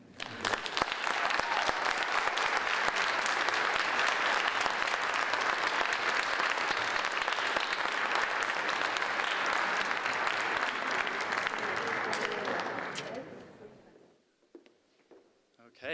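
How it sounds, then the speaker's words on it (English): Steady, dense applause from a conference audience for the placemaking presenters, loud and sustained for about thirteen seconds before fading out to near silence. "One more round of applause for Rick and all of our presenters."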